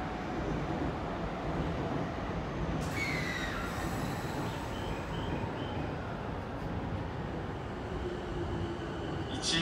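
A Chuo Rapid Line rapid train bound for Takao pulls out of platform 2 at Tokyo Station, a steady rumble of wheels and motors with a brief high squeal of wheels on the rails partway through.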